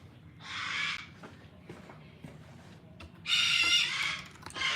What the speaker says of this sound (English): hold on, birds are distracting.